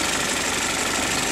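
Car engine idling too low, a steady rough mechanical rumble with a faint uneven shake, continuous and close, no talking.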